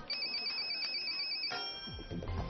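A telephone ringtone trills steadily as a call is connected live on a Chinese TV game show, a clear electronic ring that shifts midway into a brief musical sting.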